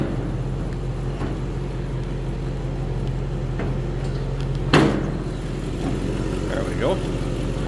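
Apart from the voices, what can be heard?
1939 Cadillac Series 75 eight-cylinder engine running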